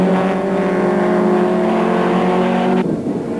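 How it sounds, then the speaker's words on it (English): Touring cars race at Port Elizabeth in the 1994 South African Touring Car Championship, with a BMW leading. Loud engines drone and whine steadily, then the sound cuts off sharply near the end. No one speaks over it. "Joubert still leads in the BMW Vira car."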